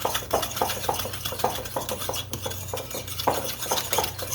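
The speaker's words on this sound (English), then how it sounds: "this is called a Dutch or Danish whisk, and it works great for stuff like this to mix" A Dutch whisk stirs banana bread batter in a bowl, giving steady rhythmic scraping and clinking strokes at close range with a low hum underneath and no talking.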